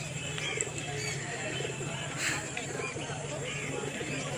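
Pigeons coo softly amid a busy outdoor crowd at the Tala pigeon market in Kolkata, with people talking in the background and occasional chirps and clatter.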